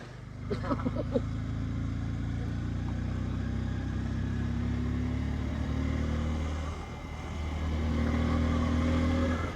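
A tractor engine runs with a steady low rumble, loud and close throughout, swelling slightly at times, with brief voices in the background near the start.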